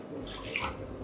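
Water is poured into a pan on the stove for making mango syrup, a steady, soft splashing rush of liquid heard close and continuous for a brief moment, with no voices.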